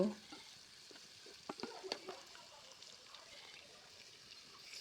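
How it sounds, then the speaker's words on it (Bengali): Chopped onions fry with garam masala in hot oil in a village kitchen, giving a continuous soft sizzle. A spatula stirs through them with a cluster of sharper scraping clicks near the middle, and no one speaks. "এখন আমি ওই তেলের মধ্যে কিছু গরম মশলা দিয়ে তারপর পেঁয়াজ কুচিগুলি ভেজে নেব"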